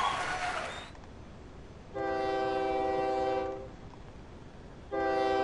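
Train horns from the Transport Tycoon Deluxe (OpenTTD) video game sound in two long tonal blasts and a third starting at the end, over a faint rumbling track noise, with a short hiss at the opening.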